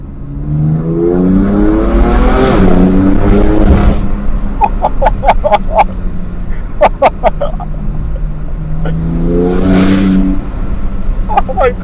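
A BMW F80 M3 with the S55 engine revs hard above 4,000 RPM, a loud raspy rising and falling engine note heard from inside the car, with sharp crackles between pulls and a person talking over it.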